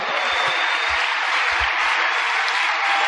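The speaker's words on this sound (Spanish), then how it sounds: "Un aplauso al Señor." A church congregation applauding for the Lord during a service, a dense, steady roar of clapping held at an even level throughout, with occasional low thumps beneath.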